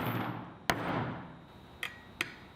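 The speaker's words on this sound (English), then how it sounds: "With a little persuasion from the hammer, the handles sat down flat on the board" A hammer tapping door handles down flat onto a wooden board in a workshop: one sharp knock, then two lighter taps, close and clear over a steady background hum.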